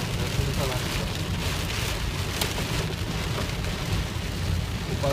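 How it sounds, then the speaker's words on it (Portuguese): Dense, steady patter of hail striking surfaces all around in São Paulo, a continuous hiss with no pauses. "Tá chovendo granizo"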